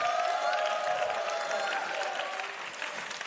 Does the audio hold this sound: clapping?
yes